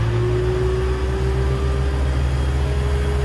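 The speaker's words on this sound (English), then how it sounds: "So you do a full throttle pull." A Volvo Penta D4 260 HP sterndrive diesel on a Cranchi Zaffiro 34 runs up at full throttle toward 2200 RPM, a loud, steady engine drone with a slowly rising whine and no talking.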